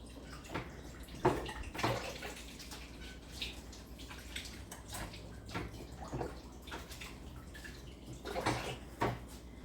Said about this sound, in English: let me rinse my hands off from the meat